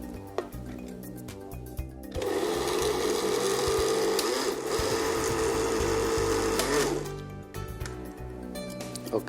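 Kitchen blender grinding mushrooms, eggs, pepper, salt and sugar for tempeh nuggets, a loud continuous motor whir and churn lasting several seconds, starting abruptly after some light clatter and cutting off before a few clicks.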